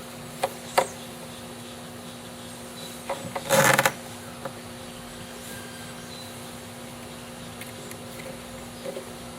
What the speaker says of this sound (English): Now we'll take some tie wraps